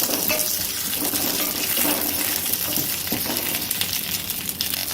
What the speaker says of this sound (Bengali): শিমটা আমি হালকা করে ভেজে নিলাম